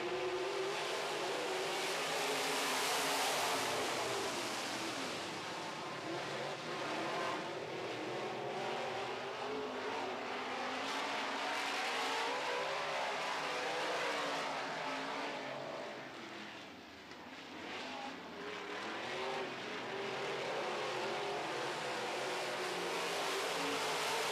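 Modified race cars lined up at the start of a heat, their engines producing a loud, steady, close roar that swells and dips slightly partway through, with no talking.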